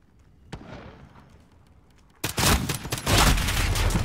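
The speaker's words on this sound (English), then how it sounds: "It is a shotgun" Shotgun fire in Call of Duty Modern Warfare: one sharp early blast, a brief lull, then loud, heavy, rapid gunfire that keeps going close by.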